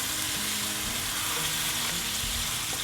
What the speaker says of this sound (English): let it simmer on low heat for at least 10 minutes until our chilies are nice and soft